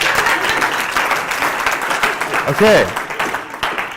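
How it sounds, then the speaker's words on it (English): An audience gives a round of applause for a volunteer at a talk, a dense, continuous clapping wash that runs the whole time, with a speaker's voice over it. "Give Taylor a round of applause."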